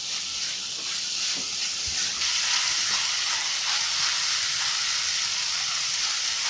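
Capsicum and rice sautéing in a hot pan for capsicum pulao, with a steady bright sizzle that stays loud and close throughout and swells slightly partway through.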